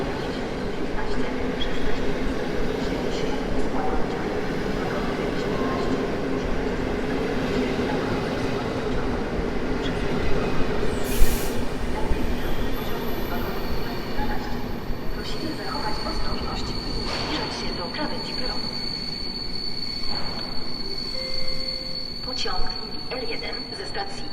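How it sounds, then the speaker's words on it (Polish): A passenger train pulls away from Warszawa Zachodnia station toward Sochaczew, a steady rolling rumble with faint wheel squeal, while a station announcement and voices carry over the platform. "ruszył pociąg osobowy z Warszawy Wschodniej do Sochaczewa."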